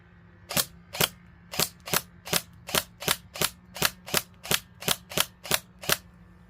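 Airsoft ASG Scorpion fires plastic BBs in single shots at motocross armour: about fourteen sharp, evenly spaced cracks, each a crisp snap with a short tail, loud and close, with no talking.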